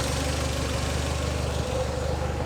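A Porsche 924 engine idling steadily nearby while the idle speed is adjusted upward, a continuous low rumble with a regular pulsing beat and no talking.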